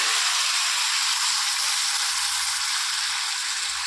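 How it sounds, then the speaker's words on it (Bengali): Water poured into a pan of fried potatoes, with fish curry cooking, sets off a loud, steady hiss of sizzling and steam that carries on without a break, with no talk. "এই যে জলটা দিয়ে দিলাম"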